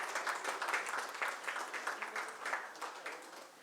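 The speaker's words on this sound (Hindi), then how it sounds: "मैं आप सभी की जोरदार तालियां चाहूँगा इस मौके पर" An audience at a Rotary Club Jaipur teachers' awards event applauds the chief guest, giving a brief burst of quick, fairly distant clapping that tapers off.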